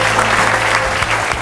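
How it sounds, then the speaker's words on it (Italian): A brief burst of audience clapping at an Amico Sport event in Forlì, dense and close throughout. "facciamogli un applauso"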